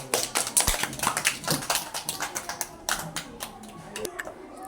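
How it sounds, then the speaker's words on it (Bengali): Children clap their hands together in a quick, uneven burst of many close claps that gradually thins out and slows toward the end. "সবাই হাততালি দাও।"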